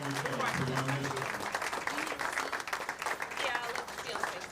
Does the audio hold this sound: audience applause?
yes